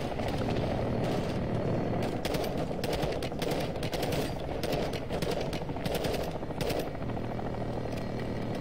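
Bursts of rapid automatic gunfire crackle over a constant mechanical rumble in Call of Duty: Modern Warfare 2, with synthetic-sounding combat noise throughout and no talking.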